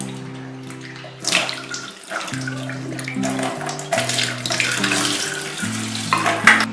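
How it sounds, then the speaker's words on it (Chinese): Soaked wood ear fungus is rinsed under running water, splashing and swishing by hand close up, with background music underneath. "将泡好的木耳洗干净"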